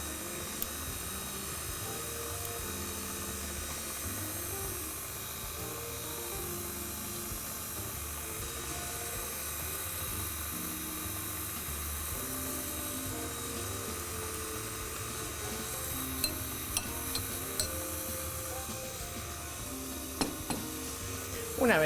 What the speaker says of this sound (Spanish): vamos a subir nuestra batidora y dejar batiendo por lo menos por unos 5 minutos más